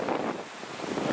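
Waves wash past a sailboat racing east in choppy water with whitecaps, a broad rushing surge mixed with wind buffeting the microphone, fairly close and steady with no speech.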